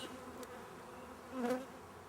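A low, steady buzz of many honey bees inside a hive hums close by, with one brief louder swell as an insect passes near.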